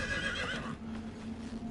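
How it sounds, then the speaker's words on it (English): A horse in the video game Diablo IV gives a short, loud whinny that fades into quieter hoof clatter, with no talking over it. "Whoa. I have a horse already?"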